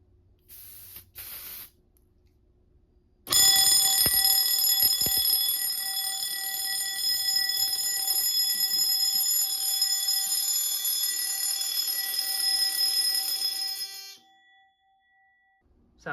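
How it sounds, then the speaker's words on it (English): A smoke detector on a Notifier CRL-124 fire alarm panel blares a loud, continuous high-pitched electronic tone for roughly eleven seconds before stopping, with a few faint clicks just before it starts. "And now for the smoke detector."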